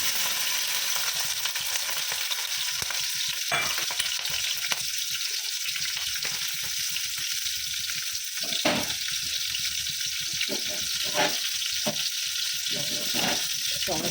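Onion, garlic and green chilli hit hot mustard oil with black cumin, giving a loud, constant sizzling hiss broken by a few sharp stirring scrapes, close and without talk.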